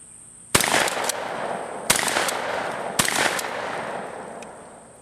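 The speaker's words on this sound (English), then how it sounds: "I'm going to shoot the square plate without touching the other 2 and then finish up on the other 2." A 12 gauge pump shotgun fires at steel plate targets outdoors: three sharp, loud blasts spaced about a second apart, each followed by a brief ringing decay, with quiet between shots.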